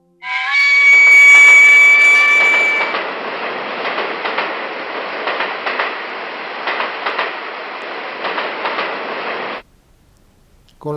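Steam train arriving on a railway line, opening with a loud sustained whistle, then a long rumbling roll with rhythmic wheel clatter that cuts off abruptly near the end.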